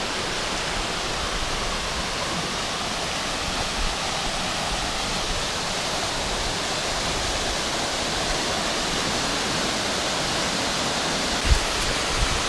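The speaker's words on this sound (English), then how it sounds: "Yet another waterfall. About 3 or 4 of them so far. This one's the biggest." Large waterfall beside a New Hampshire hiking trail on Mt Lincoln and Mt Lafayette, a steady, dense roar of falling water that holds constant and close throughout, with one brief knock near the end.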